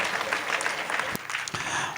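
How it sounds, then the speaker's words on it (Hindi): Audience at a Jain religious discourse during a temple consecration festival clapping in a brief burst of dense applause, with a couple of sharper knocks near the end. "ताली बजाओ।"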